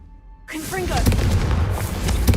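A Confringo fire spell from Hogwarts Legacy erupts suddenly after a brief quiet moment, then gives way to a loud, sustained roaring blast with crackling, whooshing debris that fills the rest of the moment.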